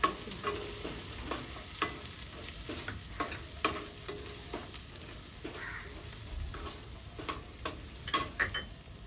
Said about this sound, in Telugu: ఇక్కడ ఉల్లిగడ్డ ఫ్రై అయింది